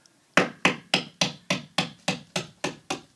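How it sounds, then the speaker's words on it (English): A hammer strikes something down in ten evenly spaced, sharp, close blows, each hit ringing briefly before the next. "You want to hammer it down."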